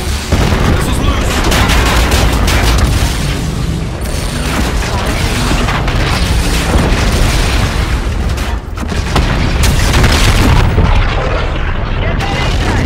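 Missiles launched and exploding in the Call of Duty: Infinite Warfare campaign, a loud, continuous barrage of booming blasts and roaring thrust, with voices talking under the dense, sustained explosions.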